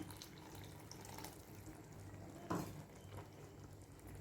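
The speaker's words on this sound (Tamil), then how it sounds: "இன்னும் கொஞ்சம் தண்ணி ஆட் பண்ணிக்கிறேன்." Water is poured into a brinjal gravy for biryani as it cooks, making a soft, faint, continuous trickle and splash with a brief louder splash partway through.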